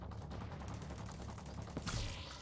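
Gunfire from the video game Tom Clancy's The Division 2, a dense continuous burst of rapid shots with a harsher crack near the end, steady and fairly loud throughout with no talk.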